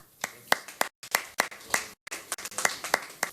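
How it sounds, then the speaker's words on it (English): A small group clapping at a Nigerian Legion Armed Forces Remembrance emblem event: a few sparse, uneven bursts of handclaps with short silent gaps, fairly close and moderately loud. "So, a round of applause, please"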